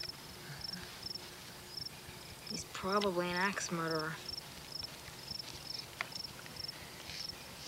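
Crickets chirping at night in a rural spot, a regular pulsing trill repeating steadily throughout at moderate distance, with a brief stretch of people talking over it partway through.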